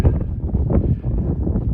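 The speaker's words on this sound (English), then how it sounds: "Windy up here." Strong wind buffeting the microphone on a hilltop along the Appalachian Trail in low, rumbling gusts, continuous and loud, with no voices.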